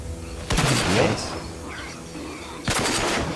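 Sniper rifle shots in the post-apocalyptic shooter game Rage, two sharp reports about two seconds apart with a trailing rumble, a voice talking faintly in between.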